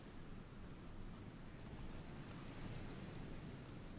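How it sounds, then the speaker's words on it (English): Water wave effects on a naval map in World of Warships: Legends, a continuous broadband wash of surf and sea noise, steady and fairly loud with no voices. "I think the water effects are a tad loud"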